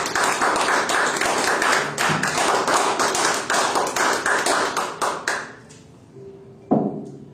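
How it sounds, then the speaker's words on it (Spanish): Church congregation clapping in praise, a dense run of quick hand claps from many people that keeps going loudly, then thins out and stops, with a lone thump and a short ring near the end. "Den un aplauso al Señor."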